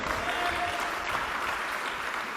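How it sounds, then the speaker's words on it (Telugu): A church congregation claps loudly and steadily, a dense, even wash of applause that fills the whole stretch without breaks. "నమ్ముతుంటే ఒకసారి చప్పట్లు గట్టి కొట్టి దేవుని స్తుతించు"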